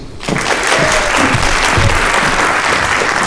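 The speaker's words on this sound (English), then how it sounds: "So today's special guest, round of applause please, from Mr. Hussey." Loud, sustained applause from an audience welcoming a guest at an on-stage conversation, steady clapping that fills the whole stretch with no voices standing out.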